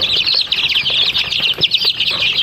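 Three-week-old Rhode Island Red and native chicks chirp busily up close, a continuous stream of high peeping with scattered soft rustles and flutters.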